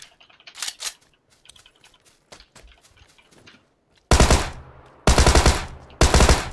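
Tommy gun firing in a video game, with quieter scattered shots and clicks at first, then three loud, dense bursts of rapid automatic fire close up.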